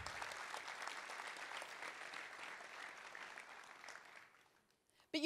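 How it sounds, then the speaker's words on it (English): A round of applause from a keynote audience, a dense continuous clapping that holds steady and then tapers away near the end, followed by a brief voice. "Round of applause."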